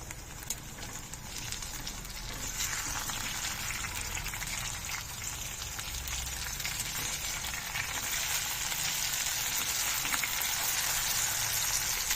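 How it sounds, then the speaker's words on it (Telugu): Food frying in a kadai on high flame gives a steady, dense sizzle that builds slightly and holds for the whole stretch, close and continuous with no talking. "ఫ్లేమ్ హైలో పెట్టి 3 నిమిషాలు ఫ్రై చేశాను."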